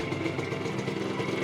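A motorcycle engine idling steadily at the end of a South America trip, a continuous close mechanical rumble with a slight clattery texture and no variation in pace.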